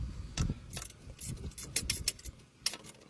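A bolt on a V-band clamp for a twin scroll turbo manifold is backed out with a ratchet, giving quick metallic clicks and scrapes in short uneven bursts, close and fairly quiet.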